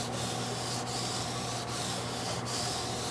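Steady dry sanding rasps across a clear-coated car bumper, a continuous scratchy hiss with a few brief pauses in the strokes.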